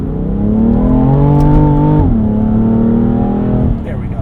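A BMW F80 M3 engine revs hard through an acceleration roll on a cold day, heard from inside the cabin: a loud, rising harmonic drone that dips briefly at a shift, climbs again, then drops off as the throttle lifts near the end.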